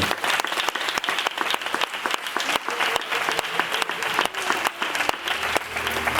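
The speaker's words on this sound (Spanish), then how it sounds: "Damos un aplauso al texto" A church congregation applauds the scripture text during a pastor's sermon, a lively, full round of clapping with sharp individual claps standing out, loud and sustained across the whole stretch.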